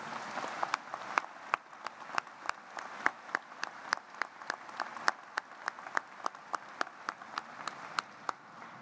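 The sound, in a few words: applause for faculty at a university commencement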